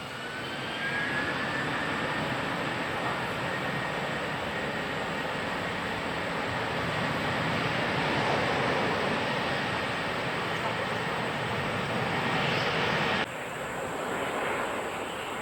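An airliner takes off from runway 34 right at Incheon Airport, its engines a loud, sustained roar with a broad rumble that holds steady throughout, heard from a distance across open ground.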